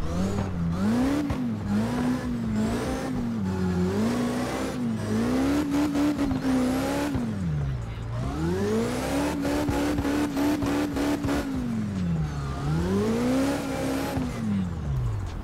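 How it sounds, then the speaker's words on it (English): A high-powered Dodge Viper concept car drifting on an icy road in 5th gear, engine revving hard and continuously, pitch rising and falling in long sweeps as the throttle surges, loud and close with no talk. "There is so much power and so little grip, it's the first time in my life I drift in 5th gear."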